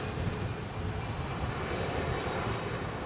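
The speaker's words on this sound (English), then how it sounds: "Don't often hear that from BA. Big handful of reverser." A British Airways airliner landing at Heathrow under heavy reverse thrust gives a loud, continuous engine roar that holds steady throughout, heard from a distance across the airfield.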